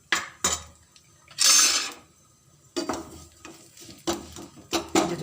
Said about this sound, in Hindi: गुड़ को डालेंगे, इसको हम थोड़ा सा मैश कर दें